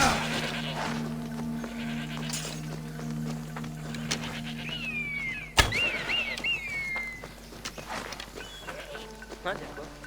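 Goat bleating in Assassin's Creed Odyssey, a short wavering cry heard a few times mid-clip over game music, horse hooves and ambient sounds, with a sharp thump just before it.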